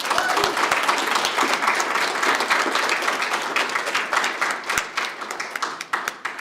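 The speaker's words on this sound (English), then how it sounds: "So I'd love to give a round of applause to Jeffrey." Audience applause for a guest at a talk on a program's history, a dense steady clapping that fills the room before thinning into scattered individual claps toward the end.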